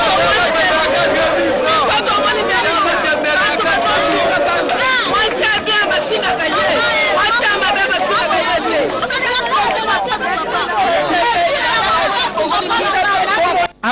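Dense crowd chatter at Ziguida market, many overlapping voices forming a loud, steady babble throughout with no single voice standing out, ending abruptly.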